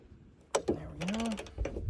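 A wrench turns on the blade bolt of a Toro TimeCutter mower in a pair of sharp metallic clicks, followed by a creaking, grinding strain as the bolt resists, close and brief.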